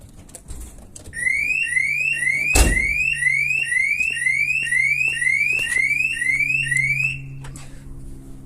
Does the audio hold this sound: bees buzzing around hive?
no